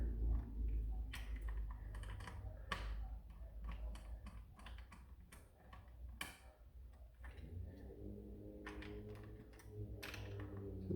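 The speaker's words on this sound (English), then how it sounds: "and then you're gonna put these screws back on here." Small screws are fitted back onto a WorkerMod Scar body kit, producing a string of quiet close clicks and ticks with faint metallic handling sounds and a soft low hum underneath.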